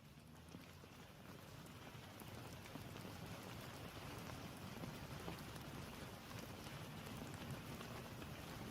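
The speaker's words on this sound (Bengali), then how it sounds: "টানা 1 ঘন্টা বৃষ্টি হলো, কিন্তু এ বৃষ্টি থামার নয়" Steady rain falls through a stormy night in open country, a dense, even hiss of drops on surfaces that holds constant throughout with no voices.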